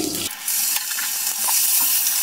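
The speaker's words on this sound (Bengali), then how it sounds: "বাটি ধুয়ে আগে আমি একটু জল দিয়ে দিলাম, নাহলে চারিদিকে চিটকচ্ছে।" Water from a rinsed bowl is poured into spices frying in a pan, bursting into a loud, sustained hiss and sputter close by.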